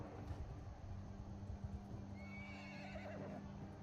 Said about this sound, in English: Come here, I need that horse.